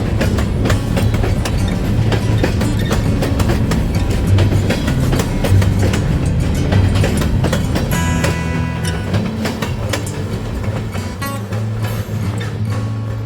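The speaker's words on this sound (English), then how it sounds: "I hope you enjoyed the sound of EMDs climbing up and down grade." EMD diesel locomotives of the Maryland Midland Railway labor steadily climbing a grade on the former Western Maryland line, a deep engine drone with rumbling wheels and rail clatter throughout, loud and continuous.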